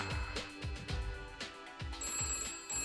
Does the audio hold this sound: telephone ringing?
yes